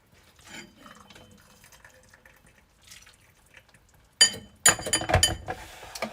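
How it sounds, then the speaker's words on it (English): Hot tinola broth, a Filipino chicken soup with chayote, poured from a pot into a bowl, with faint drips at first, then a louder splashing, clattering stretch of liquid and dishware near the end. "Alright, so we're gonna pour out some of this broth so y'all can see."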